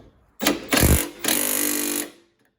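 A Milwaukee power tool strains against a stuck bolt on a Toyota 4Runner's horn bracket, giving two short loud bursts of whirring, hammering drive and then a longer steady run before stopping.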